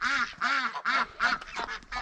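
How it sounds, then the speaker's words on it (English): Young geese and ducks quacking and honking loudly for their dinner, a close flurry of about eight nasal calls in quick succession with brief gaps between them. "Here come the gooselings and the quacklings"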